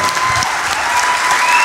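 An audience cheers and applauds for TT motorcycle racer Davey Todd at a live podcast event, with dense, steady clapping and crowd noise filling the whole moment.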